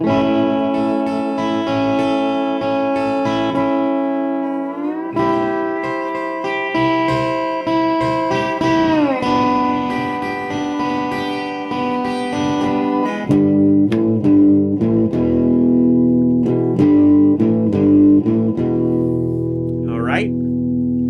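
Sustained electric guitar chords ring out with sliding pitch bends, then a rhythmic riff of repeated strums across three strings, loud and close.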